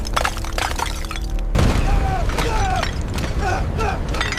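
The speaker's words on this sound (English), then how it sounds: "One overloaded cable finally exploded apart." An overloaded cable on a crab boat snaps apart with a sudden loud crack and boom after clanking, ratcheting machinery, followed by continuing mechanical noise and a voice speaking.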